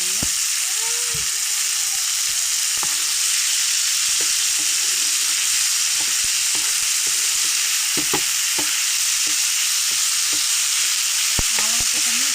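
Rice sizzles steadily in hot oil as it fries for a village-style vegetable pulao, with sharp scrapes and clicks of a spoon stirring the pan scattered throughout.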